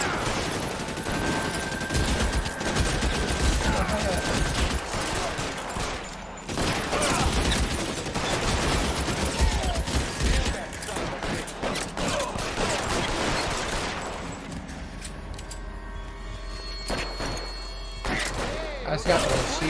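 Sustained gunfire from shooting enemies in L.A. Noire, dense loud volleys and rapid bursts running nearly continuously, with a brief lull and more isolated shots toward the end under occasional voices.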